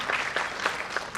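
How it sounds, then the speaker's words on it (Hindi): An audience at a summit claps warmly for a guest, a short burst of dense applause from a crowd, moderately loud and steady. "जोरदार तालियों से उनका अभिनंदन।"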